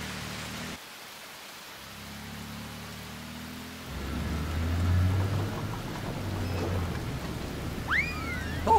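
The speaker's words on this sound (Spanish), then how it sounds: "¡Está lloviendo!" A cartoon rain sound effect from an animated children's show starts a few seconds in as a steady soft hiss of falling rain over a low rumble, continuing to the end with a brief tonal chirp near the close.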